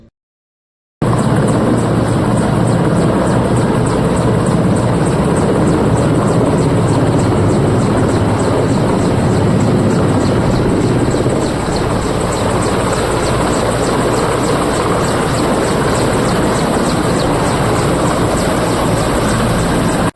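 A delivery drone hovers and flies over a flooded area of Vijayawada carrying food supplies, its rotors giving a loud, constant buzzing whir that starts abruptly and holds steady for about twenty seconds with no talk.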